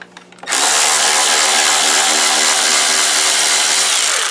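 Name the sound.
power tool removing screws from a miter saw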